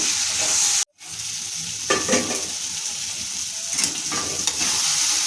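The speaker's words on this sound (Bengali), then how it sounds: "টমেটো ভাজা ভাজা হয়ে গেছে" Green tomatoes fry and are stirred in a pan, giving a steady close sizzle with scraping stir strokes and a brief gap near the start.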